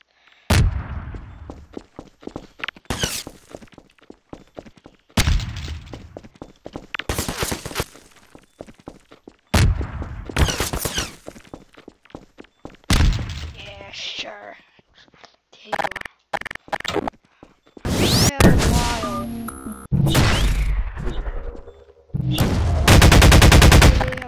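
Video game gunfire hammers at turrets in repeated rapid bursts and single loud shots, separated by short pauses, with a voice briefly talking over the action near the end.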